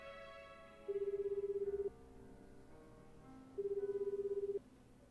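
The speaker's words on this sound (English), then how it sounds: "The phone rang several times before it went to voicemail." A phone call ringing out to voicemail in the game 428: Shibuya Scramble: two long electronic ring tones about a second each, separated by a pause, quiet and clean with no voices.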